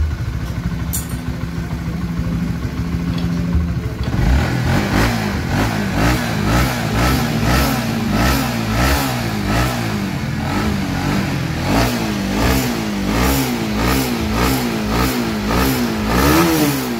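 A Honda CBR 150 motorcycle with a weak, undercharged battery and an electrical fault sits idling, then its engine is revved in repeated rising and falling bursts, loud and close, with no talk.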